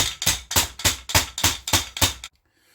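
Eight heavy, evenly spaced thuds of a meat hammer pounding chicken flat on a board, close and loud, then sudden quiet.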